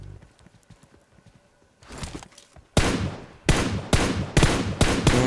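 Several loud gunshots from PUBG Mobile, scattered single bursts in a battle-royale match, coming after a quiet stretch of footsteps and light movement, with sharp echoing cracks spaced across the last few seconds.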